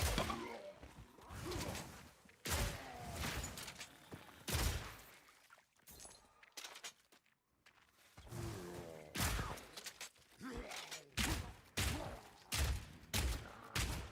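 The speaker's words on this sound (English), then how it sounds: "Shotgun." Shotgun blasts in a Path of Exile style action game, several loud broadband bursts spaced irregularly, mixed with whooshing effects and game clatter, with no talking.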